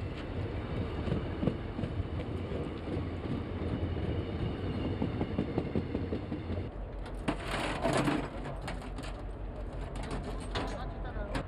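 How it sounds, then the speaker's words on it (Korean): A southbound night train pulls into a small station on a railway line, a continuous rumbling roll of wheels on rails with rattling carriages, shifting partway through to brighter hissing and screeching as it slows. "용산역에서 출발한 하행 열차가 세 차례나 들어와야 역은 비로소 휴식을 취할 수 있다"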